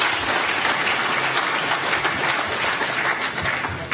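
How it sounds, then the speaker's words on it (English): Full, sustained applause fills the room at a pension fund's annual members meeting, a large audience clapping steadily and evenly throughout. "Let's start off with a round of applause for these guys again."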